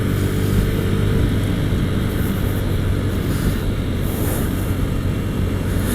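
Husqvarna Vitpilen 401 motorcycle cruising in third gear, a loud, steady engine drone mixed with wind rush, recorded close on the move.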